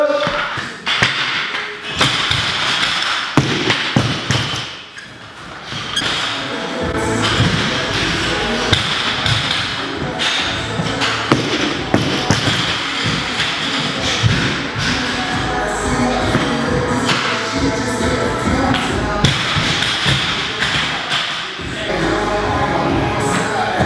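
A barbell clean and jerk and bar-over burpee workout in a gym brings repeated thumps and taps of weights and bodies hitting the floor, mixed with shuffling and background voices over a long, busy stretch.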